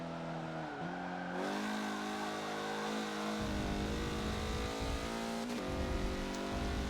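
Race cars, a Lamborghini and a Mazda among them, lap Laguna Seca in a Forza racing game, their engines droning and revving steadily with gear-shift pitch changes, loud and continuous with no talk.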